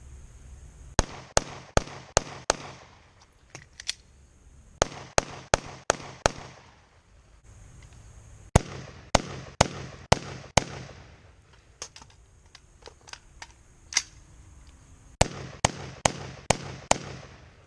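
Rapid gunfire from a firearm fitted with a Trustfire G03S budget weapon light, heard as several loud bursts of sharp, closely spaced shots separated by brief pauses.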